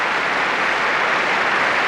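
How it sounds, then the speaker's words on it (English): Concert audience at the Proms, a large hall crowd clapping in a dense, continuous wash of applause, alone without talk. "with the applause here still continuing"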